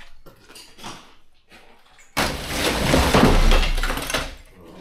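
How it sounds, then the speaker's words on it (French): A wall gives way during a home renovation, with a few faint knocks and scrapes before a sudden loud crash of breaking masonry and a few seconds of rumbling, rattling debris falling close by. "Et un mur de plus de cassé."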